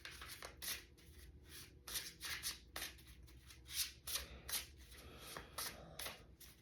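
Tarot cards are shuffled by hand in a steady run of soft, papery riffles and slides, repeating quickly across the whole stretch, fairly quiet and close with no talking.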